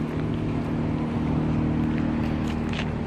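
A generator runs enclosed in a soundproof box, giving a steady, quiet, low hum with a faint tonal drone that holds even and unbroken throughout.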